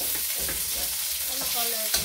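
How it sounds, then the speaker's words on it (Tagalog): Onions dropped into a hot frying pan, sizzling strongly, with stirring in the pan, a short, close, continuous hiss and no talking. "Lagyan na natin ng sibuyas."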